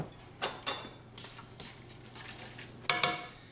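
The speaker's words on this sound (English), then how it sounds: "you'll see I'm kind of flipping it, making sure that sauce gets nice and combined" Bucatini carbonara being flipped in a pan off the heat, giving a few soft sizzling swishes and light scraping clatters spread across the moment, ending in a louder double toss near the close.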